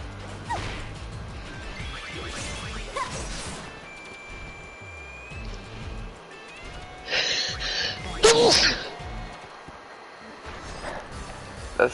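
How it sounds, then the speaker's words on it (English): A person gives one violent sneeze, a sudden harsh burst near the end that follows a sharp intake of breath. It cuts through ongoing video game sound and quiet talk. "That sneeze was violent."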